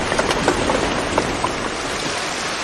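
Rain falls steadily on the island of Tofua, a dense, even hiss with scattered louder drips and patters close by, continuous and alone without any voices.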